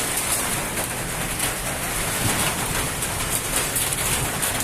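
Heavy rain pours steadily in a dense, unbroken hiss with constant spatter on surfaces, loud and close throughout, with no voices.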